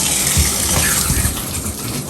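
Water gushing steadily from a shower head in a college apartment bathroom, a loud, continuous hiss and splash with no break and no voices.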